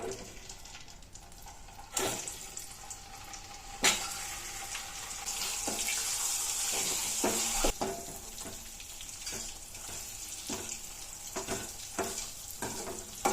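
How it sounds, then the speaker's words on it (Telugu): Eggs frying in oil in a pan with a little turmeric, for an egg pepper masala curry: a steady close sizzle that swells in the middle, broken by sharp clinks and scrapes of stirring and handling. "ఇప్పుడు మనం ఎగ్స్ వేసి ఫ్రై చేసుకుందాం"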